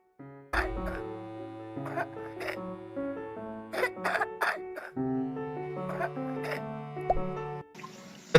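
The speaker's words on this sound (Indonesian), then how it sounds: "Batuk berdahak." Wet, phlegmy coughing in a demonstration of cough types, several separate coughs spread across the clip, close and loud over steady background music.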